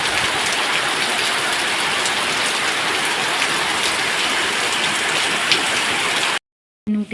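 Steady rain pours at the start of the monsoon, a dense continuous hiss of drops on surfaces, loud and close, before cutting out abruptly near the end.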